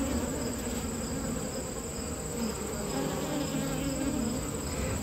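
Honeybees in an opened nuc hive started in August, a dense, steady buzz that fills the whole stretch, loud and close with no voices over it.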